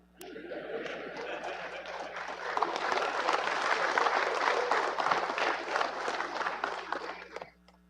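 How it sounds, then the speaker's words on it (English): Audience clapping at a presidential budget speech, swelling into a dense, fairly close round of applause with crowd murmur and cheering that fades out at the end. "You have to clap before I tell you."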